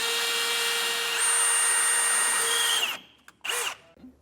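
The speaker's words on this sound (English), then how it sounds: "Now I'm going with my 1/8 inch drill bit" A power drill with a 1/8 inch bit whines steadily at close range, drilling a hole in the steel frame rail of a 2017 Toyota Tundra, then cuts off and gives a short final burst before stopping.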